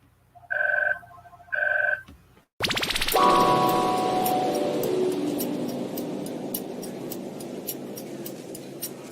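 Two bursts of a telephone bell ringing, close and fairly loud, followed by a long noisy stretch with ringing tones fading beneath it.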